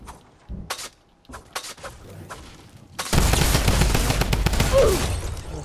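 A drum gun in a video game opens up after a few sparse clicks and thumps, becoming a loud, sustained burst of rapid automatic fire that runs to the end.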